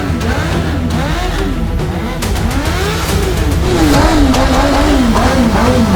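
Motorcycle engine revving hard during a burnout at a Chennai biker meetup, loud and continuous with rising and falling pitch sweeps, crowd noise and voices faintly underneath.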